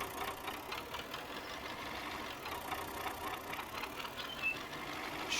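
A small tractor engine labours under a heavy load in a farming simulator game, a steady mid-pitched drone with faint knocking pulses, constant and fairly quiet, with no voices over it.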